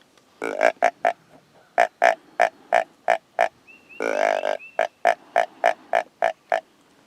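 Wild hogs grunt in a rapid series of short, loud, regular pulses up close, broken by one longer, harsher squealing snort midway, with no talk over them.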